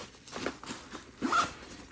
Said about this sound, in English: pretty heavy duty zipper.